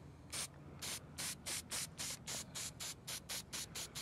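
Rustoleum Hammered spray paint is dusted onto a plastic box in a rapid series of about fourteen short hissing bursts, evenly spaced and close, with no talking.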